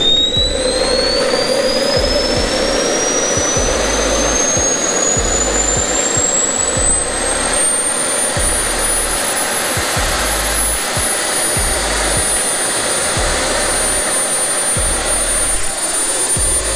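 A small jet engine on a drone roars continuously and loudly, its high whine climbing steadily in pitch as it spools up, then holding at a piercing scream.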